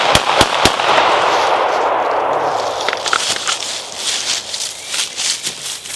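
Several sharp gunshots crack in quick succession near the start during target shooting practice, each trailed by a long outdoor echo, then fainter scattered reports and rustling follow.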